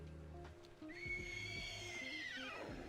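A horse mount in World of Warcraft lets out a loud, drawn-out whinny that rises, holds and trails off into a descending nicker, with no talk over it.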